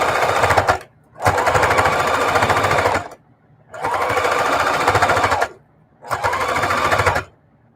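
A sewing machine stitching in the ditch on a quilt runs loud and close in four steady bursts of rapid mechanical chatter, each lasting one to two seconds, separated by short pauses.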